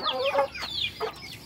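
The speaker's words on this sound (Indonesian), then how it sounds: "ayam-ayam kampung yang ada di kebun." Free-range village chickens in a garden cluck and squawk in quick, varied bursts, close by and fairly loud, with several birds calling over one another.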